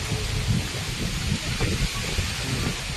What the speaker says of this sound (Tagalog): grabe po ang lakas ng hangin